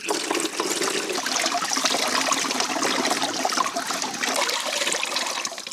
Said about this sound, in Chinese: 我们就加清水，边过滤边清洗